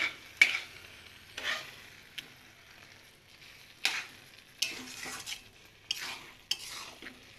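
Carrot halwa being stirred and cooked down in a pan until it dries and glazes, with scraping spoon strokes and soft sizzling in irregular bursts, close and moderately loud, no talking.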